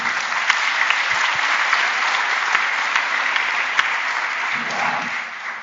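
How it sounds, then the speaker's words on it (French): An audience at a legal round-table discussion applauds, a sustained dense wash of clapping that holds steady for several seconds before easing slightly at the end. "on l'applaudit."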